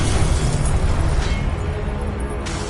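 Confringo explosive spell blast in Hogwarts Legacy: a loud, broad burst with a rumbling low-end tail that fades out over a couple of seconds.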